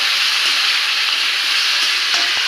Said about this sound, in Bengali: এবার একটু ভেজে নেব